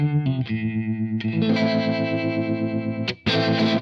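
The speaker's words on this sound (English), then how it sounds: "The Dharma Trem 61 is a unique dynamically controlled harmonic tremolo, and this is the sound with the current setting." Guitar chords processed through a Universal Audio Astra Dharma Trem 61 harmonic tremolo, played alone with a shimmering, pulsing modulated tone and a few short breaks between strums.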